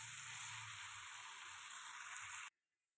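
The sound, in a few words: chicken being sautéed with tomato in a pan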